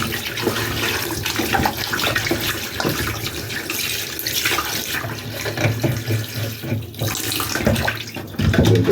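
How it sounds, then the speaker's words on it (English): Water from a tap runs steadily over oxtail being washed in vinegar water, a continuous splashing rush with sloshing and handling sounds, close up and without talk. "Add a little running water to it. I'm going to wash it like this."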